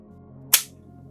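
A clear Glock magazine snapping home into a Magpul flared magwell on a handgun, one sharp close click against a quiet background.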